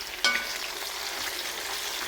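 Bitter gourd frying with garlic in a cast iron pan gives a steady close sizzle, with a brief louder crackle near the start, then an even hiss throughout and no talking.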